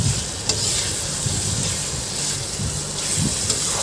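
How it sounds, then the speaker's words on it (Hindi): Okra and fried onions stirred through masala in a pan over low heat, a dense steady sizzle like rain with a few brief spoon scrapes, close and loud, no speech. "अब मैं अच्छे से इसको मिक्स कर रही हूँ प्रॉपर, जिससे मसाला हर भिंडी में पहुंच जाए"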